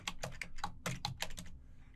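Rapid keystrokes on a computer keyboard as a command is typed into a terminal, about eight close, crisp clicks in quick irregular rhythm, then a brief pause with quiet room tone.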